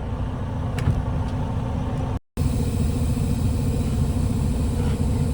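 A semi truck's diesel engine rumbles steadily as the rig pulls forward after the trailer brake is released, a constant low droning hum heard from inside the cab with a momentary dropout.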